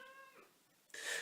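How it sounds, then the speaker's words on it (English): A pet cat meows indoors, one short close call at first and then a louder, sharper meow a moment later, with no talking over it. "That's my cat down there."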